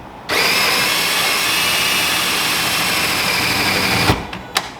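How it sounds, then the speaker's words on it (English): Drill boring a hole through a house wall for a ductless mini split line, running steadily loud for about four seconds before spinning down, followed by a couple of brief knocks. "Okay, so I started the hole from the inside"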